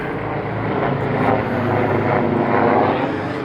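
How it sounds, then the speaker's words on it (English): Helicopter flying overhead, a loud, steady rotor and engine drone that swells slightly and stays continuous throughout, with no voices. "Can you believe that? A chopper."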